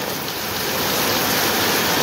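Heavy rain pouring down while water floods across a road, a dense, even roar of hiss and splashing that holds steady and loud throughout, with no voices.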